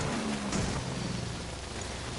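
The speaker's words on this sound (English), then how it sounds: "The rain." Steady rainfall in the Death Stranding video game, a dense continuous hiss of drops on surfaces with a faint low hum underneath, heard alone without talk.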